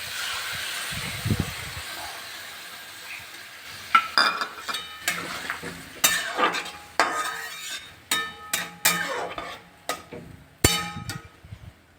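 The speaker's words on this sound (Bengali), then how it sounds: "হালকা ভেজে আমি সবজিটা সেদ্ধ হতে দিয়ে দিচ্ছি" Mixed vegetables, cooked without onion or garlic, are lightly fried in a pan. A utensil stirs and scrapes them in close, irregular clanks over a faint sizzle, with no talking.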